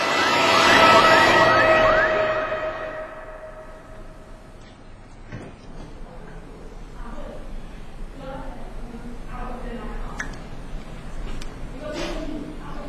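An ambulance siren wails loudly in rising and falling sweeps for the first couple of seconds as the ambulance rushes to a clinic in Owerri, then fades away while a voice talks over the remaining quieter background.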